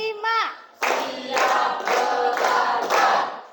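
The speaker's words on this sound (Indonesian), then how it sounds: "Tepuk 1, tepuk 2, tepuk 3, tepuk 4," A classroom group claps in a regular rhythm, four loud evenly spaced bursts of many hands, after a short spoken cue from a child or teacher.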